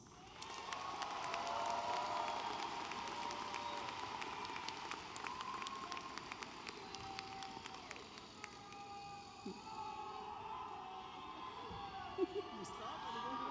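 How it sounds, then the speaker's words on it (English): A large crowd at an Upland Unified School District graduation ceremony applauds steadily, with scattered cheers, for over ten seconds before the clapping gradually thins out. "Can we give them a round of applause?"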